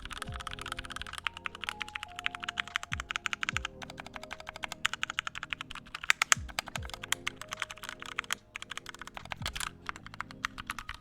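Steady typing on a mechanical keyboard fitted with lubed tactile Gateron Limbo switches, a fast, continuous run of close, crisp keystrokes with occasional heavier thocks from larger keys, heard alone without voices.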